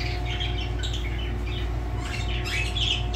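Birds in an aviary give repeated squawks and chirping calls close by, over a steady background hum.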